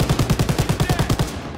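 Mounted turret machine gun in Call of Duty WW2, firing a rapid, evenly spaced burst of about a dozen loud, close shots that stops abruptly.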